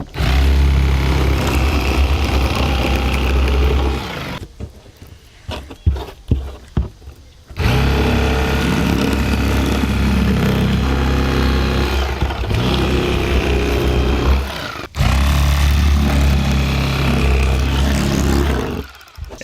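An electric fillet knife runs with a steady buzzing motor drone while cutting channel catfish fillets. It pauses briefly with a few clicks and knocks, then resumes and runs continuously close to the listener.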